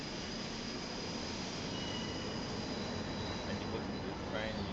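A train in Final Fantasy XIV's Tower of Babil rolls steadily with a dense, even rumble of wheels on track and a thin high squeal, fairly quiet and continuous throughout.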